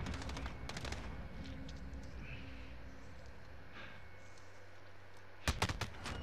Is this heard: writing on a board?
no